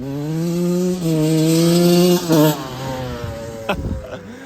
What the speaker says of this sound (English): This thing has not ran in years. It took a little bit, but now it's going. She sounded mint.